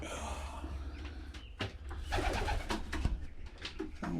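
Pigeons in a 12 by 6 loft coo steadily up close, soft repeated calls overlapping throughout, with a voice greeting them now and then.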